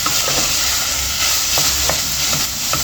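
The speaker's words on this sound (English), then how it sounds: "So here we go in with the onions and stir them in." Onions stirred into hot reused oil in a pan hiss and sizzle loudly and steadily, with soft scraping strokes of the spoon every so often and no speech.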